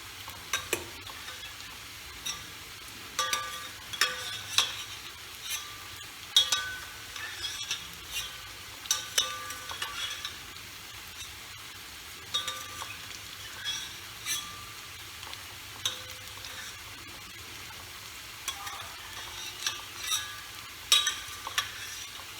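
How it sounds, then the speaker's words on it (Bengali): Bitter gourd fries in a pan with a low steady sizzle, while a spatula scrapes and clinks against the pan in frequent irregular strokes; nobody speaks. "এবার এটা আমি আবার ঠান্ডা জলে ধুয়ে এরকম করে ভেজে আপনাদের দেখাচ্ছি"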